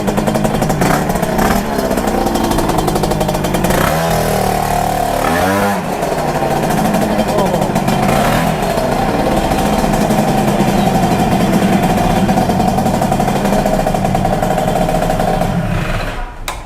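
A stock Yamaha Mio scooter engine with a KR-style front runs loud and close, idling with a rough exhaust rumble and a few brief revs throughout.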